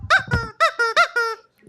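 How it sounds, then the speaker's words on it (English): A squeaky rubber chicken toy squeaks about six times in quick, irregular succession, each squeal high and sharp, loud and close with brief gaps between. "There's a squeaky chicken behind you, Dana."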